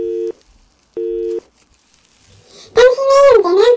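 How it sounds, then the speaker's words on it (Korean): A telephone busy tone after a call is hung up: two short steady beeps with a silent gap between them, followed by a loud voice speaking over a sweeping pitch. "김지뽀, 그냥 끊으면 어떡해"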